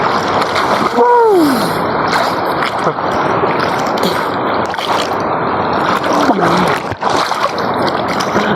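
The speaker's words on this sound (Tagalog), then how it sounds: "Laki ng alon." Loud, continuous splashing and rushing of big sea waves close by on a beach in Nasugbu, Batangas, with a person crying out briefly over the roar.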